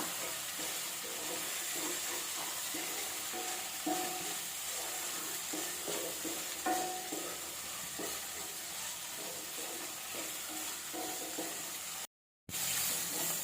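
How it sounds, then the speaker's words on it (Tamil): Turkey berries (sundakai) sautéing in oil, a soft steady sizzle with occasional light stirring scrapes, quiet and unbroken apart from a brief dropout near the end. "நல்லா சுண்டைக்காய் அந்த எண்ணெயிலே நல்லா வதங்கி வரட்டும்."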